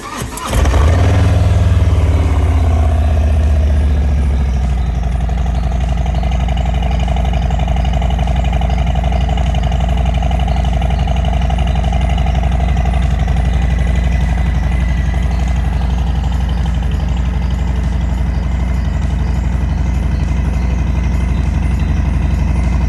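Cold start of a motorcycle engine on a Florida afternoon: a quick crank catches into a loud burst, then settles into a strong, steady, close idle rumble that runs on alone.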